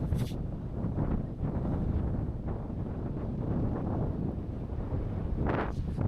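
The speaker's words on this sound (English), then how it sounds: "It's also very, very windy." Strong wind buffets the microphone at a ferry port, a constant low roar with gusts swelling and easing throughout, no other clear sounds above it.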